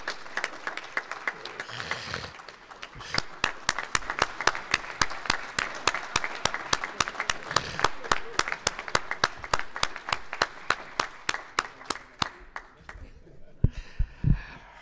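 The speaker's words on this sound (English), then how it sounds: "Let's give a round of applause." Audience at a university science internship program event gives a round of applause, with sharp, evenly spaced claps forming a steady rhythm for about fifteen seconds at moderate to faint level.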